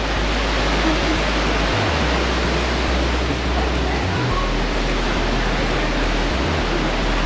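Waterfall at Teperu Falls near BK Quarries, Bartica, a steady, loud broadband rush of falling water filling the whole stretch, with faint voices of visitors.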